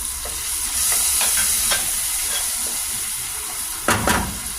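Garlic, onion and tomato sauté in hot oil for burong kanin with tilapia, giving a steady broadband sizzle with a few sharp stirring scrapes and clatters, loudest near the end.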